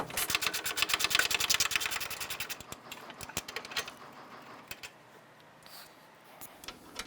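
Ratchet clicks rapidly while unbolting the center beam from the radiator support on a 2012-2017 Toyota during front exhaust manifold catalytic converter replacement, a fast ticking burst first, then slower scattered clicks.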